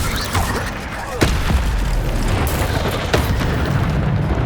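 In Hogwarts Legacy, an Incendio fire spell goes off as a burst of blasts: dull booms and sharp pops over a rumbling, noisy game soundscape, with a couple of heavier hits along the way.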